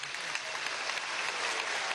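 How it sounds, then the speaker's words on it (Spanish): An audience at a memorial event applauds steadily to welcome a president, a dense and even wash of clapping that holds for the whole stretch without talk. "ponernos de pie y con un fuerte aplauso dar la bienvenida al presidente obrero Nicolás Maduro,"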